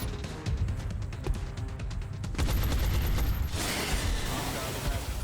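Rapid gunfire bursts in the turn-based strategy game XCOM: Enemy Within, a loud flanking shot with rattling mechanical clatter and a dense roar that swells toward the end, with no talk over it.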